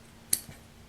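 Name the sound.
scissors trimming fabric of a towel beach bag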